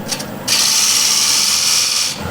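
A bowl gouge cutting end grain on a wood lathe: a steady, bright hissing scrape that starts abruptly after a brief pause and holds for under two seconds before stopping, close and loud.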